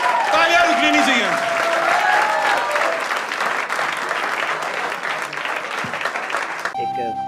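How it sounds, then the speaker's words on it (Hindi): Audience applause at a live shayari recitation, loud dense clapping from a crowd with a voice talking over the start, fading slightly toward the end. "तालियां रुकनी नहीं चाहिए।"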